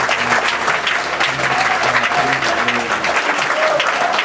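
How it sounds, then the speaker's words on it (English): A church congregation at a Sunday service claps steadily and densely throughout, loud and close, with a low sustained organ-like tone running beneath the applause. "Can you give God a hand clap of praise?"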